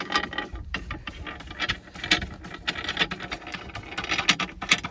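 A nut being run onto a track link pin on a 100-ton Bison pin press working on a Kobelco, close metallic clicking and ratcheting bursts in an irregular rhythm, fairly loud, with no talking.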